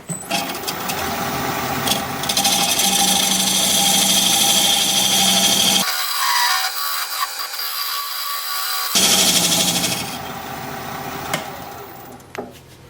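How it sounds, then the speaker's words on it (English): A skew chisel cuts a dovetail on a wooden tenon spinning on a wood lathe, a loud, close scraping whir that drops to a lower, quieter hum for a few seconds in the middle before resuming. "I'll just use the Skew chisel to put a dovetail on there"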